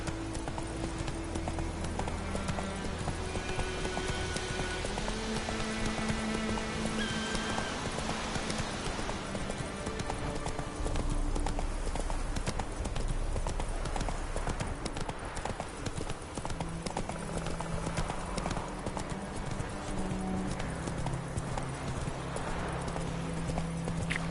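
Hooves of Roach, the horse in The Witcher 3, clip-clop in a steady trotting rhythm throughout, mixed with continuous in-game music.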